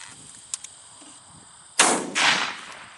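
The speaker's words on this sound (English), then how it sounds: "let's shoot old Betsy again and see where she's hitting this time" A single rifle gunshot from an old deer rifle nicknamed by its owner, fired outdoors at a target: one sharp, loud crack followed by a rolling echo, after a quiet stretch with a couple of faint clicks.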